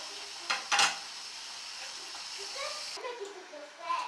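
Chicken and onions sauté in a pan, a soft sizzle under a few sharp clatters of a spoon against the pan, with a voice speaking faintly in the background.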